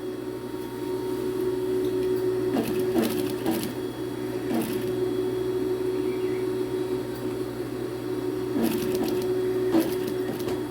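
A sewing machine drones steadily while stitching the waistband of a pleated skirt, a continuous close mechanical hum with a few brief louder clatters now and then.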